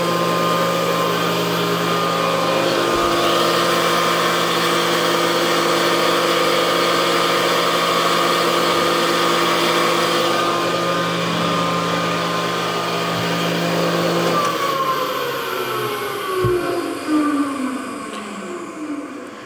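A Powermatic 26 shaper running at a steady loud mechanical hum and whine, then winding down as the motor is switched off and the pitch falls away near the end, alone without talk.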